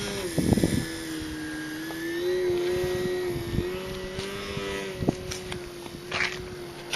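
An RC 3D Harrier model airplane flies in crosswind, its motor a steady, moderately loud whining drone with a slowly wavering pitch, broken by gusts of wind noise.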